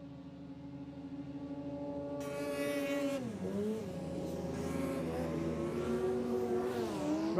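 A yellow racing hovercraft with a big four-stroke engine leads a lake race, its engine droning loudly and steadily with rising and falling pitch as it crosses the water.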